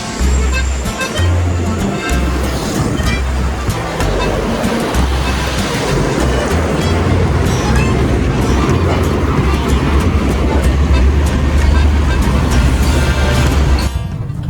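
Heavy traffic on a busy road in Indonesia, heard from a bicycle on a long-distance ride, makes a loud continuous roar of passing vehicles with deep engine rumble and wind noise throughout.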